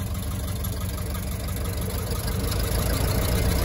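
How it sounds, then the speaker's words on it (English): A 1925 Ford station wagon's 20 horsepower engine runs at a steady idle, a loud, close, continuous low rumble with a faint knocking texture throughout. "It's a 20 horsepower engine."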